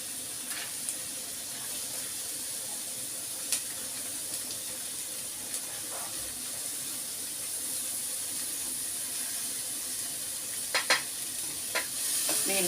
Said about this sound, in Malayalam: ബീൻസ് ഒന്ന് വഴന്നോട്ടെ